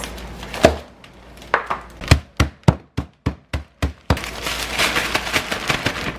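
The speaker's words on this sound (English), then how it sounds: "I'm gonna crush the ice." Ice for pho meatballs crushed in a steady series of about eight hard, sharp cracking blows, loud and close, followed by a burst of rattling, clattering fragments.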